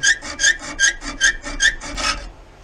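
A screwdriver slot is cut into a rusty bolt head on a Chevy 350 small-block Volvo Penta 5.7 marine exhaust riser, heard as about eight close, rhythmic rasping strokes back and forth, fairly loud and without talking.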